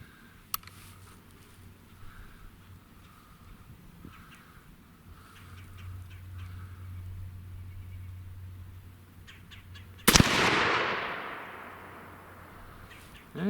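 A single sharp, loud gunshot from a CVA Scout V2 takedown rifle chambered in 300 Blackout, fired outdoors, with a ringing decay trailing off for a few seconds after the crack.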